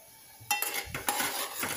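Thick sorghum flour dough cooking in a pot is stirred with a utensil, producing close, quiet scraping and clinking strokes in a steady rhythm.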